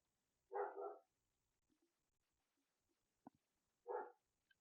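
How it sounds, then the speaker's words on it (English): A dog barks in the background, two short bursts of a few barks each several seconds apart, faint and distant, with small scattered knocks in between and no talk. "Sounds like we got a dog barking in the background"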